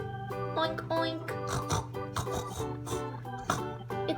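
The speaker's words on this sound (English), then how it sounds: "It's a pink piggy." A Melissa and Doug farm animal sound puzzle plays a pig sound effect, a steady run of close, loud oinks and snorty grunts over a faint background hum.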